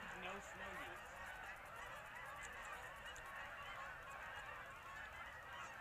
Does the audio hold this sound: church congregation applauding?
no